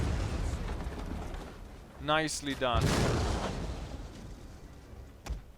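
Siege shots land during a Medieval Kingdoms 1295 battle as a mangonel is destroyed: booming artillery impacts and a crashing hit in the middle, a brief voice speaking just before it, and one sharp crack near the end.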